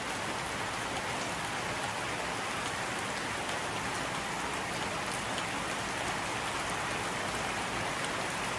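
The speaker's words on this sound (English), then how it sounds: "So we get stuff done when we can out there, and then it rains." Steady, dense rain falls in Normandy, France, a constant close hiss of drops hitting surfaces with no pauses, no thunder and no voices.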